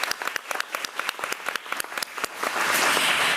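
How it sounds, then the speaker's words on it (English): An audience at a school board meeting applauds a student, sharp separate claps close by at first, then swelling into a fuller, continuous wash of applause from the room. "Let's give her another round of applause."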